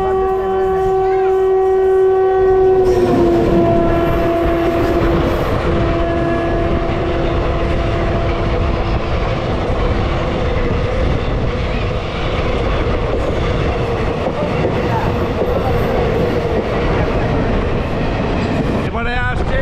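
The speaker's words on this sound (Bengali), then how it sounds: "12363 কলকাতা হলদিবাড়ি সুপারফাস্ট এক্সপ্রেস।" The 12363 Kolkata–Haldibari superfast express passes close, opening with a loud sustained horn blast that gives way to a heavy, continuous roar and rattle of the carriages rolling by.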